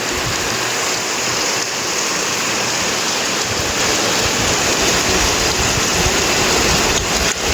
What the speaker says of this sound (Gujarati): અચાનક વધારે વરસાદ ચાલુ થઈ ગયો.